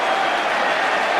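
A cricket crowd applauds England, a dense, steady wash of clapping that holds evenly at close range for the whole short stretch.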